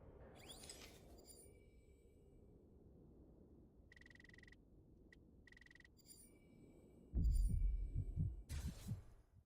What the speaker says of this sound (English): The hell is that heartbeat for?